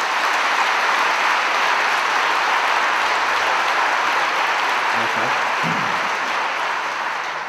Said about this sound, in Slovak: Prosím, potlesk, možno výjdu.